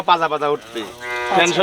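Holstein Friesian cattle on a farm give a loud, close moo with a drawn-out, bellowing call and a short second lowing.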